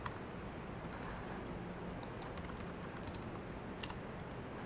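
Quiet typing on a computer keyboard while working in InDesign: scattered single keystrokes and small clusters of clicks tap away at an uneven pace over a soft background hiss, with no voices.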